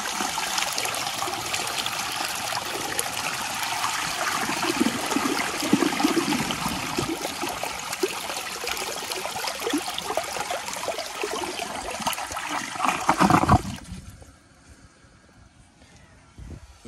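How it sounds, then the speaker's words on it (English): A 2002 Sanitarios Maracay toilet with an overfilled tank flushes up close, a loud churning rush of water for about thirteen seconds that cuts off abruptly into a quiet trickle of refilling. "this thing's got a very nice flush"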